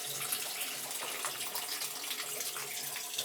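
Hot boiler water gushes out of a pressure relief valve in a basement, a loud, close, continuous hissing rush that holds steady throughout with no pauses.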